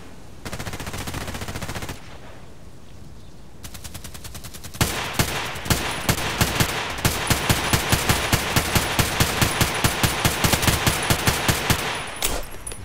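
Bursts of SMG fire in the shooter game Contract Wars, first a short sustained burst, then after a pause a long rapid automatic stream of loud close shots.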